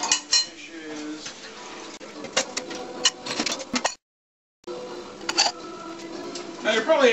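Small dishes, little cups and cutlery clatter as they are tossed one after another into a kitchen sink for washing, with sharp clinks and knocks, a short silent gap midway, and more clattering after.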